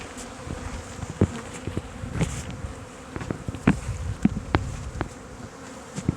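Honeybees buzz steadily and densely around an open beehive during an inspection, with scattered close-up knocks and bumps of frames and hive parts over the swarm's hum.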